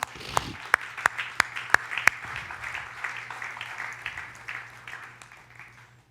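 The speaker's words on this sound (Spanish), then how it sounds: "Dale un aplauso al Señor." A church congregation applauds during a worship service, scattered claps with several sharp distinct hand claps early on, fading gradually toward the end.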